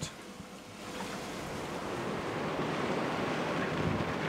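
Wind blowing over the Kattegat sea, a steady broad roar with rushing gusts, loud and continuous without any voices.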